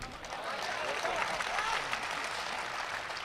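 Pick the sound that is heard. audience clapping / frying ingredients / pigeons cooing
audience clapping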